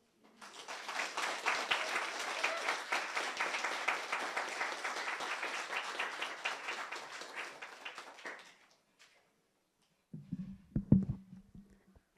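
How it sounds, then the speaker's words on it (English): Sustained audience applause after a talk about nature narratives and Turkana, a dense wash of many hands clapping for about eight seconds before fading out, followed by a brief burst of low sounds. "Please clap for them again"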